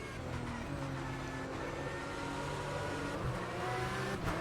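Race car engine in rFactor 2 holding a steady, droning high-rev note through a corner taken flat out, continuous and fairly close with slight pitch shifts and no talk over it.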